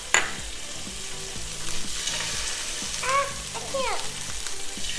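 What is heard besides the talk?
chicken frying and popping in hot oil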